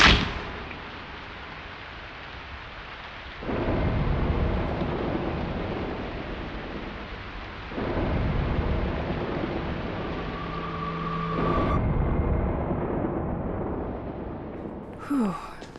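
Thunder rolls in a storm in the game Broken Pieces, three deep rumbling swells over a continuous windy, rain-like wash.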